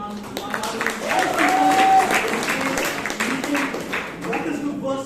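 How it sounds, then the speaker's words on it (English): An audience at a Toastmasters club meeting in Bangalore claps in a brief burst of applause that swells and then fades, with speech heard around it. "A round of applause to DTM Rajdeep Manwani."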